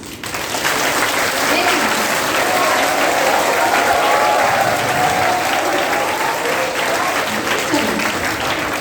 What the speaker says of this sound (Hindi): हाथ ऊपर करके तालियां बजाओ, जिससे थोड़ी नींदें जगें